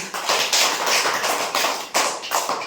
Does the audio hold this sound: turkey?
no